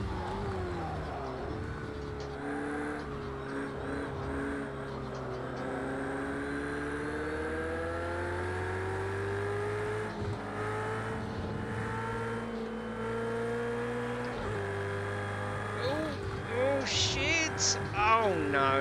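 Ferrari 488 engine in Project Cars 2, a sustained near revving drone whose pitch climbs and shifts through gear changes, with talk over it.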